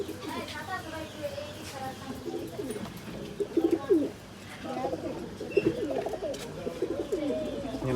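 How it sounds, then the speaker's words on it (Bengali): Pigeons coo in a bird shop, soft repeated low throaty calls rising and falling over a few seconds amid general shop murmur and background noise. "এদিকে অনেক কবুতর আছে, একটা কবুতর নিয়েছি"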